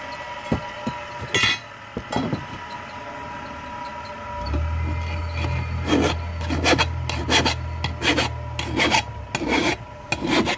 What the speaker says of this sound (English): it's easier to guide it and easier to get it sharper by putting it like this with the blade spinning towards it